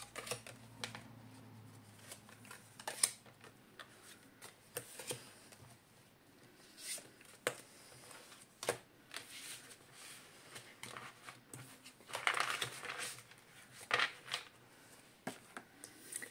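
Tarot cards being shuffled and drawn, soft close rustles, flicks and light taps scattered irregularly, faint throughout.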